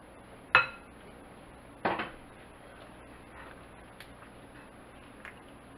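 A spatula folds Kool-Aid pie filling in a bowl, giving a few sharp clinks and knocks of utensil against the bowl, spaced apart over quiet stretches.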